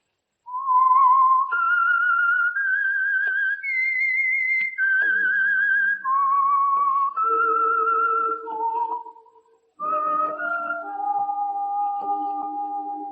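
A clear, melodic whistled signature tune for the radio program The Whistler, rising and falling over several phrases, with a short pause before a final sustained passage, loud and close.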